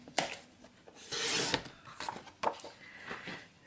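A sheet of paper being cut for a scrapbooking card, with short scraping and rasping strokes in uneven bursts, close and fairly quiet, and no speech.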